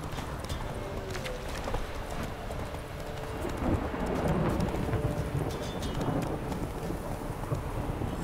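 Roach the horse gallops in The Witcher 3 with a steady, close drumming of hooves, blended into a constant wash of rain and low rumbling thunder that swells slightly midway.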